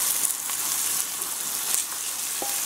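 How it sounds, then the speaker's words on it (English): Venison searing in a pot with garlic and onion gives off a steady, close frying sizzle that holds at an even level from start to finish, with faint clinks now and then and no talking. "we got a nice sear going on here"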